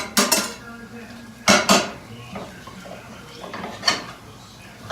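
A metal utensil knocks and scrapes against a pan while breaking up sausage and egg filling for a breakfast burrito, giving a few sharp clanks and softer taps nearby with no one speaking.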